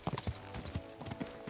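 A horse's hooves clip-clop on the ground in Kingdom Come: Deliverance II, a quick, uneven run of close hoof thuds over a steady ambient bed.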